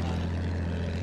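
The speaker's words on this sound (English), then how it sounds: "The plane went down." Propeller plane engine in Battlefield 1, a steady low droning hum held loud and constant throughout the short moment, with no voices over it.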